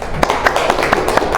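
Applause for a student group in a classroom: a short burst of rhythmic clapping with regular sharp claps, close and fairly loud.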